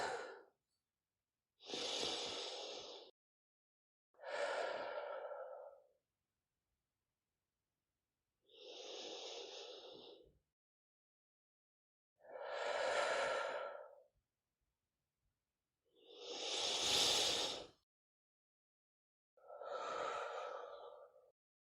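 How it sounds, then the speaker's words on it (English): Seven slow, deep breaths in and out, each a soft airy swell lasting about a second, spaced by silent gaps, close and clear with no talk. "And taking 3 deep breaths now."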